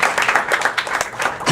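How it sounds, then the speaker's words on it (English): A room of people applauds honorees being recognized, brief uneven clapping with individual hand claps standing out, fairly close and moderately loud. "Everybody give them a big round of applause"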